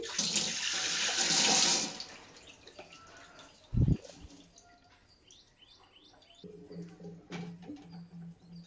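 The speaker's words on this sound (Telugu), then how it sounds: "కొంచెం వాటర్ పోసి" Water poured into a spicy, tangy chili stuffing mixture made with anjeer powder for stuffed mirchi bajji, giving a steady splashing hiss for about two seconds, then quieter clinks and stirring.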